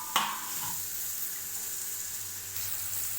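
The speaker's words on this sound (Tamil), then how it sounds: "எல்லா பன்னீர் இதில் போட்டுக்கலாங்க அப்படியே அதை ஃப்ரை பண்ணிக்கலாம்" Paneer cubes frying in a pan for a spicy paneer gravy, a steady soft sizzle throughout with a brief clatter as pieces drop in near the start.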